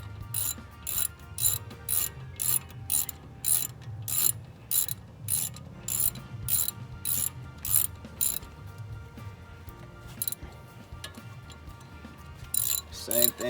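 A steady ratchet repeatedly tightens the wheel hub bearing bolts on a 2007 Saturn Aura, with quick close clicking strokes in an even rhythm and a brief pause near the end. A faint voice can be heard at times underneath.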